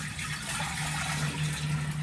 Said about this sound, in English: I'm going to get my water and I'm going to start pouring it in this vessel